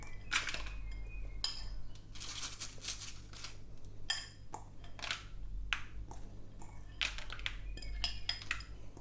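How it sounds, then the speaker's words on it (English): Small hard pieces of fake food rice tapped and scraped onto a plate, giving close, quiet, irregular clinks and clatters of tableware with no talk. "we need to arrange the rice on the plate that we've prepared"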